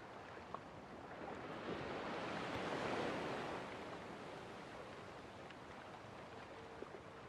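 Ocean waves in the video game Little Nightmares 2, a soft broadband wash of surf that swells to a peak midway and then settles, faint and steady with no talking.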